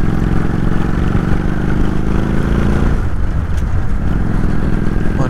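A motorcycle engine drones steadily up close, loud and even, with a rough low rumble and clattering texture that shifts slightly partway through. No one speaks.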